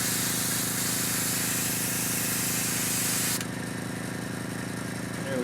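An airbrush sprays Badger Stynylrez primer in a loud continuous hiss for about three seconds, then the spray cuts off abruptly, leaving a quieter background hum and a faint voice at the close.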